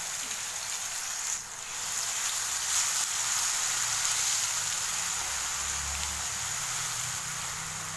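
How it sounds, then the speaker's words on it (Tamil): A steady, close sizzle of onions with ginger garlic paste sautéing in hot oil for an egg masala curry, swelling slightly partway through and continuing evenly with no talking. "சேர்த்துட்டு இஞ்சி பூண்டு பேஸ்ட்டு வெங்காயத்தோட பச்சை வாசம் போகிற அளவுக்கு நல்லா வதக்கி விட்டுக்கிறோம்."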